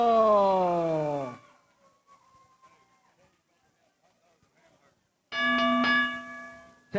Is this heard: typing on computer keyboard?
no